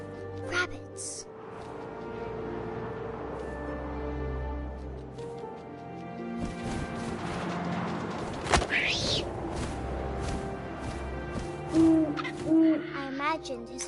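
A game owl hoots in What Remains of Edith Finch, soft repeated calls over a low ambient wind and musical bed, moderately distant with no talking.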